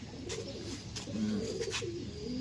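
A breeder pigeon in a loft coos softly in low, rolling notes, a few calls in a row against quiet background noise.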